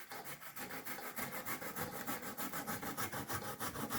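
Cassava is grated by hand in quick, regular rasping strokes, roughly three per second, close to the listener and with no talk over it.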